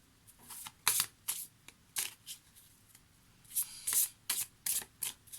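Tarot cards being shuffled by hand, a run of quick crisp riffling bursts in uneven clusters, close and fairly quiet with no talking.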